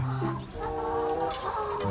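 Chickens around a rural Thai house cluck close by in a busy, overlapping stream of short throaty calls, with several birds sounding at once.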